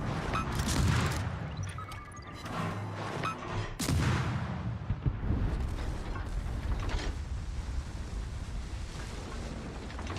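Naval gunfire in World of Warships, with deep booms and a sharp blast early on, followed by a continuous rumbling, creaking battle ambience of ship machinery and water.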